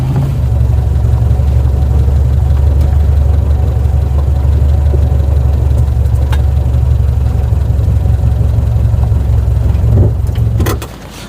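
A classic Mini's small engine idles close by as the car is parked, a steady low rumble that holds evenly for several seconds before cutting off near the end.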